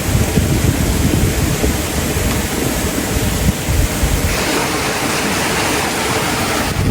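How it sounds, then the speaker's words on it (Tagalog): Water rushes powerfully in front of a dam, a loud, continuous broadband roar close by, with no voices. "Grabe po ang tubig dito ah, sa harap po ng prinsa."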